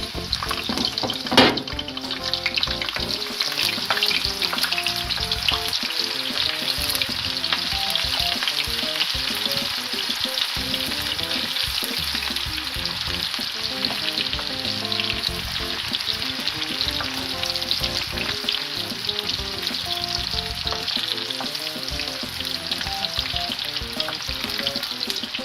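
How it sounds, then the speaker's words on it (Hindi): Chopped onions frying in hot oil in a home kitchen pan, a loud continuous sizzle with stirring scrapes throughout, steady and close, no voices. "ऑयल गरम हो गया है। अब इसमें प्याज डालूंगी।"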